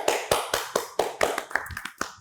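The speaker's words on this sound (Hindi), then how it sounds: "तालियां हो जाए उनके लिए।" Studio audience on a current affairs talk show claps in sharp, distinct beats, roughly four per second, close and crisp, with the claps thinning and becoming less regular toward the end.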